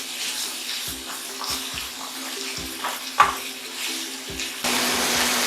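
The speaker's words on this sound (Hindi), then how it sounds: "हम अब इसके अंदर थोड़े से आलू डालेंगे चॉप किए हुए, ये गाजर, ये शिमला मिर्च और ये रही बंद गोभी। 5 मिनट के लिए इनको थोड़ा सा फ्राई कर लेंगे।" Chopped potato, carrot, capsicum and cabbage frying in a pan for macaroni, a steady close sizzle with intermittent stirring knocks and clatter, growing louder and denser near the end.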